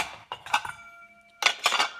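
Small stainless steel cups and bowl clink and clatter as they are nested inside a metal bush pot, two bursts of metallic knocks separated by a short lull with a faint ringing tone.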